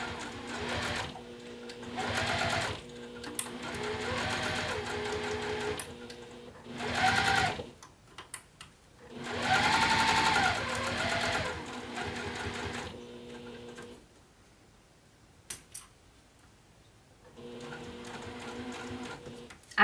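A sewing machine stitches a bag seam in several runs of rapid, even whirring, stopping and restarting with short pauses between bursts. The machine is close and clear, with no talking over it.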